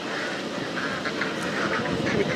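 Ducks quacking at a pond in a mountain setting in Japan, with several short calls rising out of a steady outdoor wash over about two seconds.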